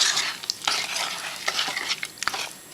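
A spoon scrapes and clicks against a bowl while chocolate cupcake batter with eggs, jam and sugar is stirred, uneven strokes with small knocks, close by and without talking.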